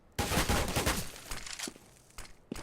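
Rapid AK rifle fire in Counter-Strike, a tight burst of shots up front followed by scattered single cracks and faint footsteps, fairly quiet overall with no talking.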